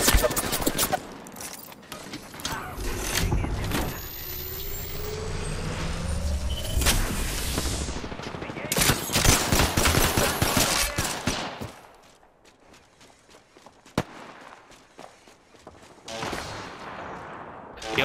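Gunfire from a G7 in a video game fight: loud, rapid bursts of shots crack and rumble close by, with a quieter stretch near the end.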